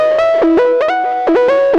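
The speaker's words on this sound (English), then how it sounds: "you typically wouldn't think to put a distortion after the reverb, but I think it adds to this unique sound" Serum synth lead run through reverb with distortion placed after it, a loud gliding tonal line with bright harmonics, pitch sliding down and back up in repeated swoops, heard alone without voices.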